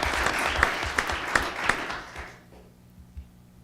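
A small group applauds at a school district governing board meeting, with moderate clapping and a few sharp individual claps that quickly fade out, leaving a quiet room hum.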